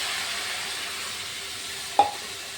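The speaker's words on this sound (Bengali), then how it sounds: "কষানো হয়ে গেছে, এখন আমি জল দিয়ে দিচ্ছি।" Water is poured into a sizzling spice mixture for a jackfruit and potato curry in a pan. A steady close sizzle runs throughout, broken near the end by one sharp hissing burst.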